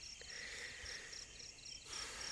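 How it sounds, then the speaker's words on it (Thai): Crickets chirp at night beside a pond, a steady, faint high trilling pulsing in regular repeated bursts with no voices. "มีแต่เสียง จิ้งหรีดจี๊ดจี๊ดจี๊ดจี๊ดจี๊ดจี๊ดจี๊ด"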